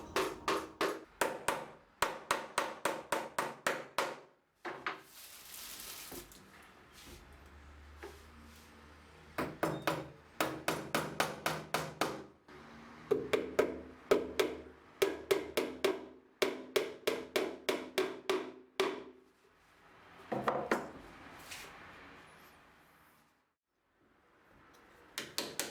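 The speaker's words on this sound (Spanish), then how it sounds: "Sigo dando la vuelta, pegando y clavando los otros 2 lados" Hammer blows drive nails into a traditional wooden tool chest as its sides are glued and nailed, coming in quick rhythmic bursts of sharp close taps separated by short pauses, with a few softer knocks and handling noises between the runs.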